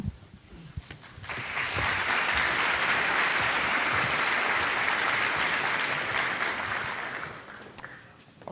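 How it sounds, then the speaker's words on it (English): Audience applause at a startup conference talk, swelling quickly into a dense, sustained wash of clapping from a large crowd that holds for several seconds before tapering off. "A round of applause for venture capitalists."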